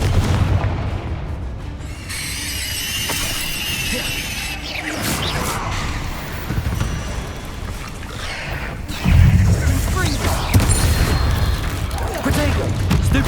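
Confringo fire spell blasts in the Hogwarts Legacy video game, several booming explosions and crashes with crackling debris among battle noise, one heavy impact near the end.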